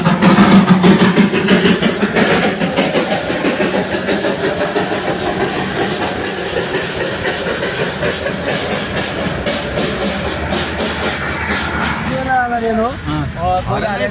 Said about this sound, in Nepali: ल साथी हो, कोइलावाला रेल पनि हेरियो